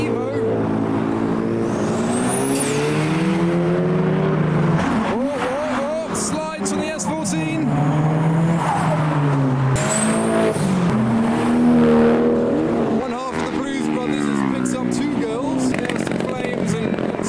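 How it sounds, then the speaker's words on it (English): A Mitsubishi Evo revving and passing at a car meet, its engine swelling in repeated rising sweeps with sharp pops and crowd noise, loud and close, with people talking throughout. "The next car to appear is an Evo."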